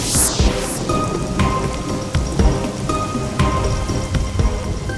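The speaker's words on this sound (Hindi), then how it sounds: "जंगल के रास्ते में इतनी तेज बारिश शुरू हो गई?" Heavy rain pours steadily and close on a forest path, with low thunder rumbling through it and a few sharper cracks; no voices.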